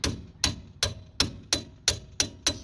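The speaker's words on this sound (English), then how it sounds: "You put it like that and you hammer." A hammer strikes a driver set tool to knock out a wheel bearing part on an AWD car, eight sharp metallic blows in a steady rhythm, close and clear with no talking.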